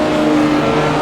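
Race car on a track in a charity championship race, a loud steady engine roar holding a strong droning tone as it drives past close by.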